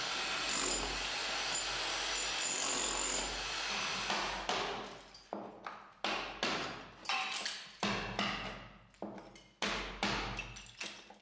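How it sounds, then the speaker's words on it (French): Hammer and chisel striking a wall while clearing channels for electrical wiring, a series of sharp, close, irregular metallic blows after a few seconds of steady broadband noise. "il n'y a plus qu'à les dégager au marteau et au burin"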